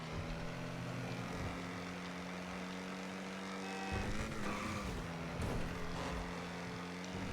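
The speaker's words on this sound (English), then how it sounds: "let's listen to the engine now" A Jaguar XE SV Project 8 engine in a GTA video game drones steadily, then surges with two sharp revs and a brief tire squeal, loud and continuous with no talking.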